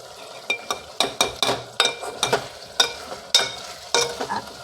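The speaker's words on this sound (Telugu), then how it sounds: "ఇప్పుడు టమోటాలు వేసుకోవాలి. ఇప్పుడు కొంచెం సాల్ట్ వేసుకోవాలి." Tomatoes and salt frying in a pan give a steady sizzle, with a spoon stirring and scraping in bursts of about ten sharp strokes close by. No voices are heard.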